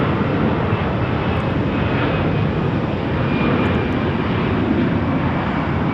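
An airliner on the Seattle flight at Phoenix Sky Harbor airport produces a loud, steady engine roar that fills the whole stretch without letup and with no talk over it.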